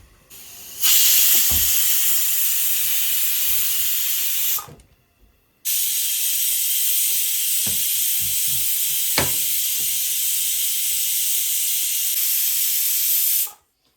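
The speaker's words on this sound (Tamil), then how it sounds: "ஸோ விசில் இதோட முடிஞ்சிச்சு மக்களே, ஆஃப் பண்ணிட்டேன்" A pressure cooker cooking green gram curry releases steam in two long, loud, steady hisses, separated by a brief silent gap.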